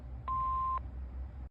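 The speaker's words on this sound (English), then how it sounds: "Please leave your name and phone number after the beep." A Panasonic KX-TGFA30C answering machine gives a single clear half-second electronic beep, a steady pure tone that starts and stops cleanly against faint background hiss.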